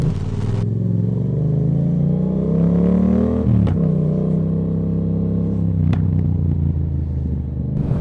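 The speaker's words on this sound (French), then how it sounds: "je vous laisse avec le son de la moto" Yamaha MT-07 motorcycle with a Roadsitalia titanium exhaust revving up through rising gears with a growling note, brief gear-change dips, close and loud, no talking.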